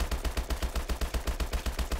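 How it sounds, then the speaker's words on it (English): An HBR rifle fires full-auto at a firing range in the video game Call of Duty Advanced Warfare, a fast, even burst of sharp shots for about two seconds. "let's just shoot at this pole here with the HBR"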